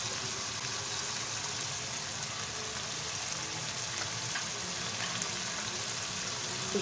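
Daal maash with fenugreek frying in a pan, giving a steady, close hiss of sizzling oil that runs evenly without pause throughout.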